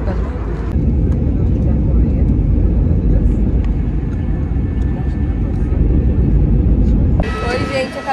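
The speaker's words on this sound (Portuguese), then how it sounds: "Isso aqui é meu voo pra São Paulo, tá?" Steady, loud airliner cabin roar throughout a passenger flight to São Paulo, a dense low rumble that fills the whole clip with little change, a brief brighter hiss near the end.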